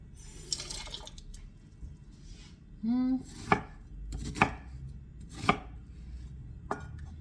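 Onion and vegetables being chopped for a spaghetti meat sauce, with a handful of crisp, separate knife strikes on a board spaced about a second apart and a brief tone in between, no talking.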